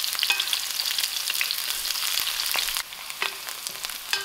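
Onions fry in a pan until soft, giving a close, steady sizzle with crackling pops and brief spoon-stirring scrapes, with no voices over it.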